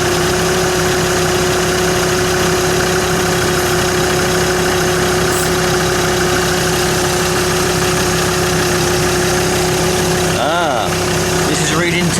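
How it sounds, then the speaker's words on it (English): A small pump inflating a leaking tyre runs as a steady, loud mechanical drone with a constant whine, continuing throughout with a brief change near the end, while someone talks over it. "Although the pump's reasonably small in it, it don't take that long to do."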